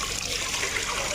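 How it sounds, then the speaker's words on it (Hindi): Tap water runs and splashes steadily into a pile of dirty dishes being washed in an open courtyard, a continuous broadband rush with no talk over it. "अब इसमें पानी डाल दूँगी ना तो थोड़ा फूल जाएगा बर्तन"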